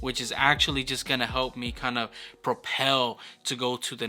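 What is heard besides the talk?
No everyday noise stands out behind the speech.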